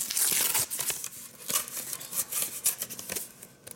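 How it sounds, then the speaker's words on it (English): Paper crinkles and tears as a greeting card envelope is opened, soft rustles and rips arriving in quick irregular bursts, close and fairly quiet. "So I will open up the card first."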